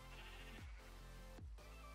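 A sheep in the Minecraft video game bleats twice in quick succession, a short wavering call heard clearly over a steady bed of game background sound.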